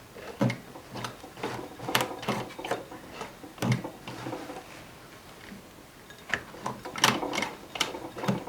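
A sewing machine stitching back stitches on jeans, with irregular bursts of rapid mechanical clatter separated by short pauses, close and fairly loud.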